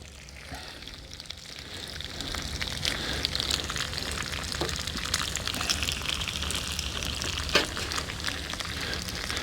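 Frozen hash browns fry in bacon and sausage grease in a cast iron skillet, a steady close hiss and crackle that holds for the whole stretch with occasional sharper pops.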